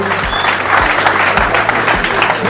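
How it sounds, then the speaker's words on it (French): Steady, dense applause from a crowd at a poker camp closing ceremony, many hands clapping continuously and fairly loud throughout. "on applaudit quand même là-haut"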